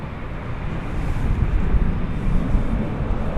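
An airplane takes off from runway 18 left at DFW Airport, a loud, steady broadband engine roar that swells slightly and holds, with wind buffeting the microphone and no talk.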